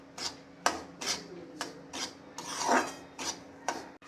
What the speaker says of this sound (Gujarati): સોજીને આપણે 2 થી 3 ચમચી ઘીમાં લઈને શેકી દઈશું.